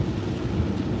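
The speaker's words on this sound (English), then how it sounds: "As you can see, today it is raining." Rain falls on a car in a steady, dense patter with a low rumble, heard from inside the vehicle, continuous and fairly loud with no talking.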